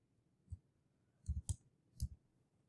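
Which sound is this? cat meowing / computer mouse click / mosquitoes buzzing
computer mouse click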